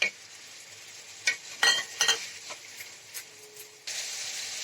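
Spiced water poured over fried onions in a pan for a chana dal dish with goat liver, bursting into bright hissing spurts and scraping stirs, then settling into a steady loud sizzle, with no talking.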